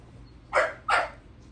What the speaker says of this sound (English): Sorry about the puppy barking.